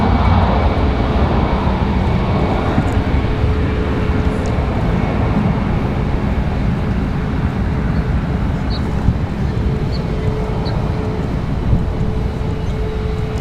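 An American Airlines Airbus A321 jet departs Raleigh-Durham International, its engines giving a steady, loud, broad roar with a faint whine, unbroken for the whole stretch.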